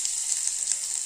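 Ginger garlic paste hits hot oil already holding popped mustard and cumin seeds, giving a steady, close, bright hiss of sizzling with no voices.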